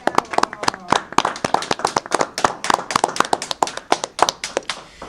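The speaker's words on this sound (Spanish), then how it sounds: "un aplauso para el secretario de Juventud" Audience applause for a youth secretary at a formal evening event, a smallish group of people clapping briskly and unevenly, close and clear, with a few voices faintly mixed in beneath the claps.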